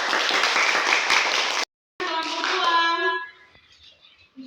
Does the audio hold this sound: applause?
yes